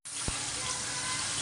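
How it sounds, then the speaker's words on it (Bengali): Water poured into a cooking pot of simmering curry, a sudden steady gushing rush that starts abruptly and continues evenly for over a second. "জলের পানি দিয়ে দিলাম"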